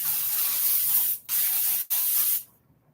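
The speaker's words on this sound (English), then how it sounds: "And spray it." Hairspray from an aerosol can misted onto hair in three long hissing bursts with two brief pauses between them, close and steady, ending in near silence.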